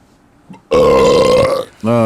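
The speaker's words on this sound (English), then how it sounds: "that did make a burp sound good" A loud, drawn-out burp made close into a new microphone during a podcast, about a second long after a faint lead-in, followed by a short voiced sound.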